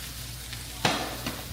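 Seasoned food frying in a pan over medium heat gives a steady, soft sizzle, close and moderately quiet, with a brief louder crackle and a few lighter pops along the way.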